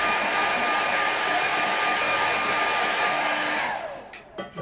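A hair dryer runs at a steady, loud, close whir, blowing over a wet watercolour painting, then cuts off near the end with a few faint knocks and handling noises.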